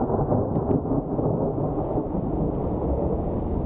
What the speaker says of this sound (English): Did you hear that? That's thunder snow, yes.